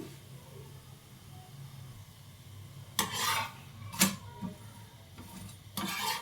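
A fenugreek leaf chapati roasts on a pan over a low background hiss, with a few sharp scraping rasps as it is pressed and turned.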